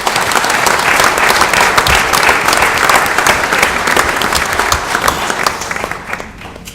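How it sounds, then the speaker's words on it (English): Loud, close applause from the audience at a city council meeting, dense steady clapping that holds for several seconds before gradually thinning out at the end. "I'd just like to ask another round of applause for all those participants"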